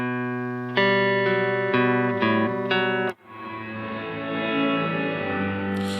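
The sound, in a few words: Strymon NightSky reverb pedal, wet reverb signal only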